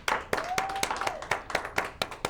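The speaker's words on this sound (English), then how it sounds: "Let's round of applause." Studio audience at a local talk show claps in sparse, distinct bursts, individual sharp hand claps spaced unevenly rather than a full roar, with a brief tonal whistle-like sound partway through.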